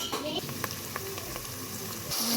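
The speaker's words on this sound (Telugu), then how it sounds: "ఆనియన్స్, పచ్చిమిర్చి కట్ చేసామండి. ఇవి ఆయిల్లో ఫ్రై చేసుకుందాం" Chopped onions and green chilies frying in oil for a country chicken curry crackle and sizzle up close, with a few quick stirring clicks through a short burst.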